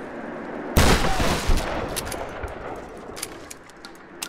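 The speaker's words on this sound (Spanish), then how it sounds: "se desbloquea con un disparo con la escopeta de trinchera" A trench shotgun fires once in Tomb Raider, a loud sudden blast followed by a short decaying echo and faint ambient clicks, with no talking.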